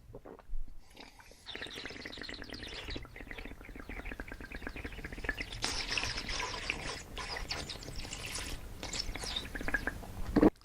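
A person imitates bird tweeting with water held in the mouth, sucking in air and working the lips and tongue, making a continuous warbling, chirping trill with bubbly watery gurgles, close and fairly loud throughout.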